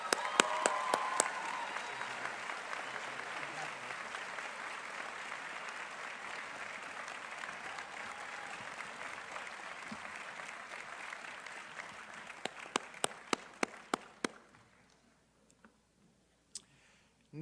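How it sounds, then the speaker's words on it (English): Outdoor college commencement crowd at Ravinia Festival Park applauds in a broad, distant wash that slowly fades out, ending with a few scattered sharp claps from individuals. "Please join me in a round of applause."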